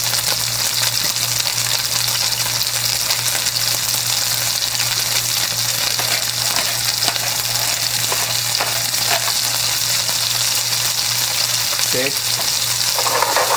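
Garlic shrimp in black bean sauce fries in a pan with a steady, loud sizzle throughout, broken by occasional stirring scrapes and a short clink near the end; a single brief word is spoken.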